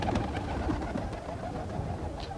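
Pigeons coo under a steady broad background noise, the soft low coos close and intermittent through the short stretch.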